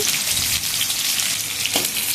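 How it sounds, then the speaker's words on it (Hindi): Steady hissing and crackling of lengthwise-sliced onions frying in hot oil as a tempering for Indian Chhattisgarhi cooking, with no talking. "प्याज को लंबाई में कटा हुआ प्याज है उसका तड़का लगा लेंगे।"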